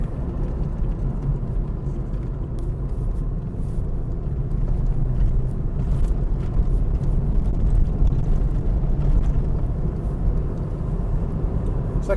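A VW VR6 car on a road test drive with Koni dampers, heard from inside as a steady low engine and road rumble with some wind noise, continuous throughout.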